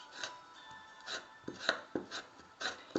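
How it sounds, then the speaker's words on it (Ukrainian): Quiet, repeated rubbing and scraping strokes, roughly one every half second, with light clicks of large metal office scissors smoothing dry straw, close by. "Можна ось цими ножицями, такими канцелярськими, великими, теж досить гарно шліфується."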